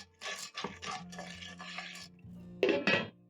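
Popcorn kernels, sugar and salt tossed together in a cooking pot, a close, scraping, rustling stir with light clatters that ends in two louder metallic knocks against the pot.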